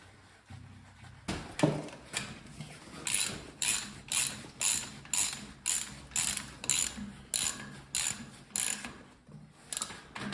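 A hand ratchet tightens bolts on the fender of a Volvo BM 430 tractor, giving a steady train of close, crisp clicks about twice a second, with no talking.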